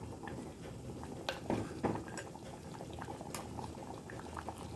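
A pot of ribbon fish curry bubbles and simmers steadily up close, with a few soft clinks of a utensil against the pot.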